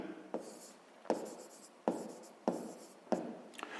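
Pen or pencil writing by hand on paper while working a sixth-grade maths exercise, a series of short scratchy strokes in bursts with brief pauses between them, close and quiet.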